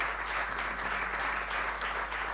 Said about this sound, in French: y compris Philippe, on peut les applaudir